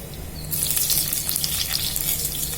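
Cumin seeds, added after mustard seeds, hit hot oil for a rasam tempering, breaking into a sudden loud sizzle after a quiet start and crackling steadily and close until the end.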